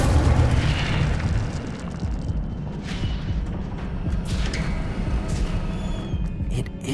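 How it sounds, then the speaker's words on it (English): A fire spell cast in the video game Hogwarts Legacy, a sustained low roaring rumble with muffled booming bursts, loud and steady for several seconds with no talking. "Incendio!"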